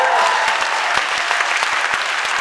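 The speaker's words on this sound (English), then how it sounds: "first time the word appropriate has gotten a round of applause, which is great." A conference audience at a Q&A session bursts into a round of applause, dense steady clapping that fills the whole stretch at close range with no voices over it.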